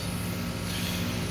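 Natural gas portable generator running nearby, a steady loud hum with low droning tones and broad hiss, brief and unchanging, with no talking.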